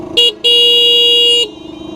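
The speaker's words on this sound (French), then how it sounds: "je vous ai pas montré aussi le klaxon" A loud, near horn on an MBK Booster One scooter gives a short toot, then a longer blast of about a second, bright and nasal over a low idling engine.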